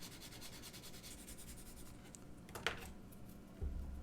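Finer-grit sandpaper rubbed over a kitbash model part, producing faint, soft scratchy strokes with one brief sharper scrape near the end, close and quiet, with no speech.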